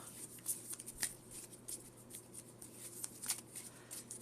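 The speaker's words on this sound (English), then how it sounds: "So we're going to shuffle now." Pokemon trading cards being shuffled by hand, quiet crisp riffles and soft flicks in irregular bursts, close up against a low steady hum.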